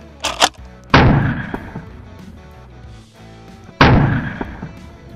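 Two loud, close gunshots from a hybrid rifle-shotgun, each a sharp blast with a ringing decay, spaced about three seconds apart, with a small knock just before the first.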